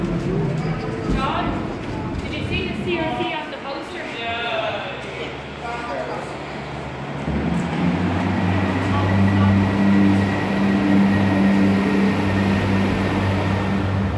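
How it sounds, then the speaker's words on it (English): A train rumbles through Pearse Station, with a loud, steady low drone and rattling that builds toward the end, voices audible early on. "Ooh, noise of that train."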